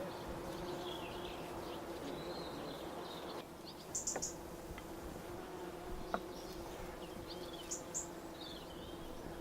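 Faint buzzing of honeybees around an open beehive outdoors, a low continuous drone with a few brief insect passes and distant bird chirps.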